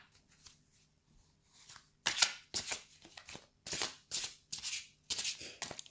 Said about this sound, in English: Let us shuffle the cards.